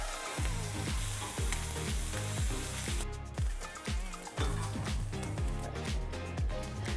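Shrimp sizzling on a hot grill, a loud, steady crackling hiss that continues throughout, with occasional sharper pops and no talking over it.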